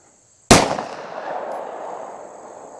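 A single loud gunshot from a 3-inch Taurus GX4 pistol firing 127 grain +P+ ammunition, a sharp close crack followed by a decaying outdoor echo, with no talking.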